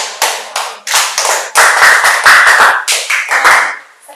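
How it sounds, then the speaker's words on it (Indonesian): Students in a classroom clap their hands together for classmates, loud close bursts of quick claps that come in rhythmic groups, pause briefly, then start again before fading near the end. "tepuk tangan"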